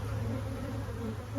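Agitated honey bees next to a hive that is beginning to swarm make a dense, loud, continuous drone of many close wings with a steady pitched hum and no pauses.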